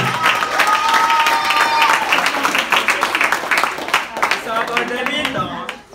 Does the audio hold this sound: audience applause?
yes